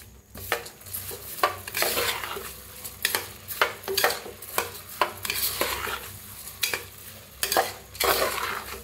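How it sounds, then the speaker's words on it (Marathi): Rinsed rice is stirred and roasted in hot oil in a pan for masale bhaat, with rhythmic scraping and clinking strokes of the spoon repeating over a constant soft sizzle. "तर ह्याच्यात ओतूया तांदूळ बी. आता छान मिक्स करून घेऊया."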